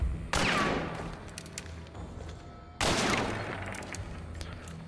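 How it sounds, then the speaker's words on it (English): Two loud bursts of gunfire shooting through a wall in the video game Hunt: Showdown, each a sharp blast with a long ringing decay, the second arriving about two and a half seconds after the first. "I'm gonna try to do a wall bang over here."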